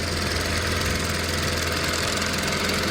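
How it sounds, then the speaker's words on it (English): A small outboard motor pushes a Mirror sailing dinghy along the coast between Chichester Harbour and Hurst Point, running hot; its steady, close chugging drone holds without a break, with no voices over it. "This is the engine batting away."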